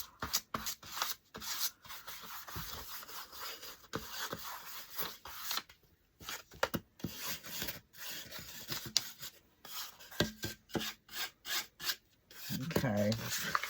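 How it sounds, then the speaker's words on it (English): A small finger sander works over a wooden craft piece in short, rasping strokes, close and steady with brief pauses between passes, with no talking. "Finger sander."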